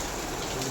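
Heavy rain falls in Surat as a dense, steady hiss of drops on surfaces, close and unbroken for under a second.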